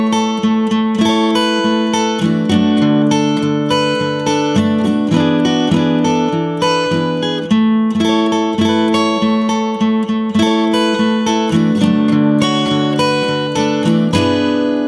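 Slow, steady fingerpicked acoustic guitar with a capo plays the intro of a song, bright picked notes ringing over low bass notes, close and clear with no voices.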